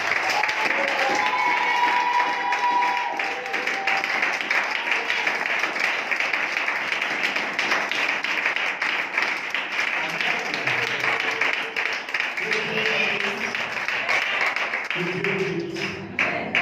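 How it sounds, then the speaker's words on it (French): Church congregation at an evangelism program gives steady applause and acclamation, a continuous dense clapping bed with scattered voices and shouts rising toward the end. "Tu vas donner une acclamation céleste."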